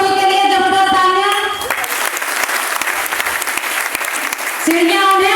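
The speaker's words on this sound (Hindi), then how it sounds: "तो आप सभी के लिए जबरदस्त तालियां।" Strong audience applause from a crowd, loud dense clapping in the middle with a tonal musical sound before and after it.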